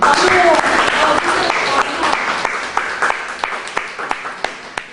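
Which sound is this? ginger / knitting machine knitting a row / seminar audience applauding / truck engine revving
seminar audience applauding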